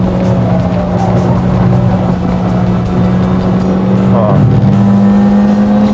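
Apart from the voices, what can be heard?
Citroën C4 Lounge turbo engine accelerating during fast lap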